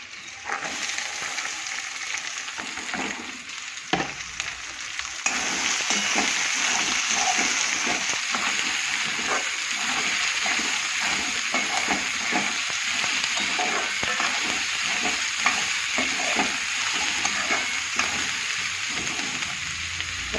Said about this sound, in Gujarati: ડુંગળી મસ્ત શેકાઈ જાય પછી ટામેટા.